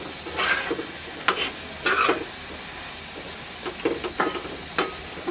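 Pumpkin and fish curry with lentil dumplings gets stirred in a pan, the spoon scraping in short irregular strokes over a soft steady sizzle, close and fairly quiet, with no talk.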